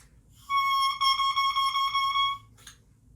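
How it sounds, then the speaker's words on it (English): An oboe reed blown on its own without the instrument crows with a bright, buzzy, reedy squawk lasting about two seconds, wavering slightly, close and fairly loud, then a brief extra squeak. "We call this crowing the reed."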